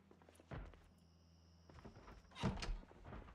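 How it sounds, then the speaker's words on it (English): A door closing in the video game Project Zomboid, heard as a solid thunk with a second heavier knock a couple of seconds later, fairly close and without talk. "Let's close this door as well."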